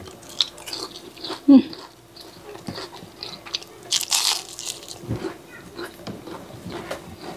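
Crispy homemade breaded chicken crunches as someone bites and chews it at home, one sharp close bite followed by quieter irregular crunching and chewing, with brief talk.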